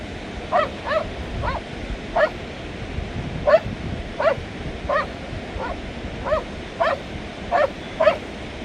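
A large black-hooded dog barks in a series of sharp, mid-distance yips and woofs while herding cows on a mountain, about a dozen barks spaced irregularly over steady outdoor background noise.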